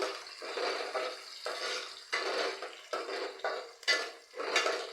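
A spoon stirs onion and other ingredients for Nellore-style fish curry in a pan. The scraping comes in repeated strokes, near and moderately loud, over a light sizzle, with no talking.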